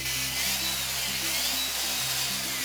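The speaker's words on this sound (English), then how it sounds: "I just needed a couple of holes drilled in the plexiglass for these metal holders." A power drill boring a couple of holes through a plexiglass sheet, giving a steady, loud whine with a constant motor hum that runs unbroken throughout.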